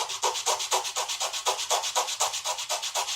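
A wooden plank edge being sanded by hand with sandpaper, a rapid, even back-and-forth rasping of about six strokes per second, close and steady with no talking.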